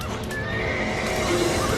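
Horses neigh and whinny in a smoke-filled stable during a fire, a close, drawn-out call with restless shuffling beneath it.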